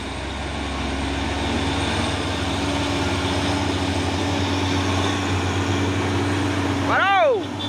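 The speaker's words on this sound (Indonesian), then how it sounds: "Dan ini ada 2 unit truk tangki CPO pemain Hino 500 JP Jaya Pratama." Two Hino 500 tanker trucks hauling crude palm oil: a steady, low diesel engine drone runs throughout, then a brief, rising and falling tone cuts in near the end as the sound swells.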